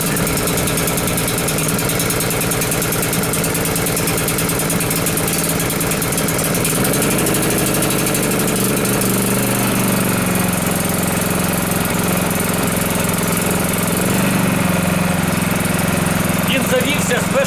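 A GTM DK3500Xi-V 3.2 kW inverter generator starts on the first pull and runs with a steady, loud engine drone that shifts in pitch as it settles. Someone talks over it.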